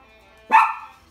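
A single loud, close dog bark, one sharp burst that quickly fades, in a home kitchen where breakfast is being cooked and a guitar is being played.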